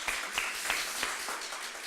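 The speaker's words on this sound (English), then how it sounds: "So I say give yourselves a round of applause for that." A luncheon audience at a retirement celebration claps together in a steady wash of applause, with individual claps faintly audible inside the sustained noise.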